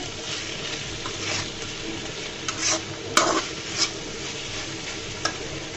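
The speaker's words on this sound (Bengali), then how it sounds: "আমি আবারও নেড়ে চেড়ে দিব। দেখুন অনেকগুলো তেল ছেড়ে দিয়েছে।" Eggplant frying in a pan that has released plenty of oil, a steady close sizzle broken by a few louder scrapes and clatters of a spoon stirring through the pieces.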